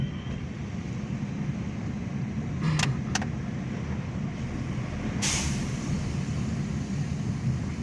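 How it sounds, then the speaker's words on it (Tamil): A vehicle coming along a hairpin bend on the Thalavadi ghat road, heard as a steady engine rumble that swells slightly, with a brief hiss near the middle and no talking. "ஆமாம், வண்டி வருது."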